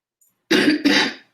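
Two quick coughing bursts, close and fairly loud, with a rough throat-clearing quality and no talking around them.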